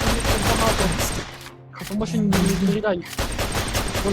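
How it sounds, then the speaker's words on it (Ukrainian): Rapid gunfire in a Minecraft zombie-apocalypse game, with bursts of shots that break off for a moment midway and then resume, heard under excited talk. "Давай їх стріляй всіх!"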